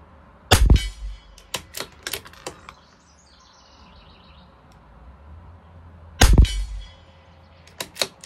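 Sharp, crisp reports from a CZ 457 LRP bolt-action rifle firing Eley 22LR rounds at a 50-yard benchrest, several evenly spaced shots with a quiet gap between them, fairly close and loud, with faint birdsong in the background.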